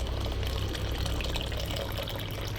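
Water pours steadily into mashed masoor lentils for a tangy Bengali dal with star fruit, giving a continuous close splashing rush with no talk.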